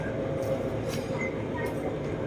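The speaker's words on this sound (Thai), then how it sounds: "รถไฟฟ้าสายสีน้ำเงิน ที่ยกระดับ บนถนนจรันสนิทวงนะฮะที่ผมกำลัง นั่งอยู่นี้นะฮะ" Elevated MRT Blue Line electric train in Bangkok on Charansanitwong Road, heard from inside a carriage: a steady low rumble of the running train, a few brief high squeals and hisses, and a voice speaking over it.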